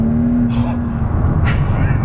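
Mercedes SL65 AMG Black Series engine droning loud and close as it's floored from highway speed, a steady low roar with a rising tone while the rear breaks loose, a voice briefly over it.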